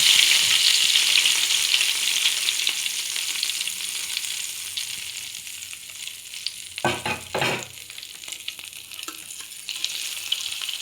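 Very hot oil sizzles and fries steadily in a karai, with a brief louder burst of sizzling and stirring partway through, close and continuous with no talk.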